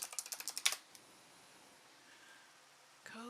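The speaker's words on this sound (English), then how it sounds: "Sorry, my keyboard is super noisy." Quick bursts of clicky typing on a noisy computer keyboard, about eight sharp keystrokes close up in under a second, followed by quiet room tone and a brief faint voice at the end.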